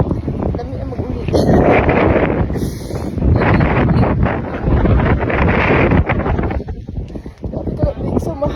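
Strong, cold wind at a campsite buffets the microphone in loud, rough gusts while a person talks over it.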